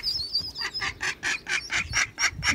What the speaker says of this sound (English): We've got some friends in this lock. Ducks come in. With all these little ones.